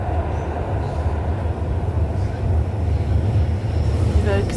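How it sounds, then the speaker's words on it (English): Tyne and Wear Metro train running, heard from inside as a steady low rumble and rolling hum with faint squeals near the end, continuous and fairly loud. "considering the fact that I'm on the Tyneway Metro"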